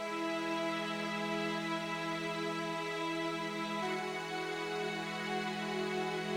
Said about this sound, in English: So there's some strings that go along with it as well.